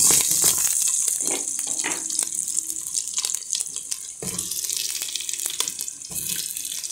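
Water runs steadily from a tap into a cooking pot, a continuous splashing stream with a few small clunks and shifts in the flow throughout.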